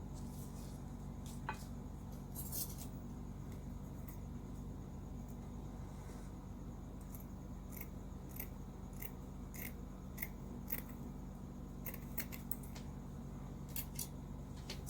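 Scissors snip through stiff crinoline fabric in a quiet room, a series of crisp, short cutting strokes spaced irregularly over a low steady background hum.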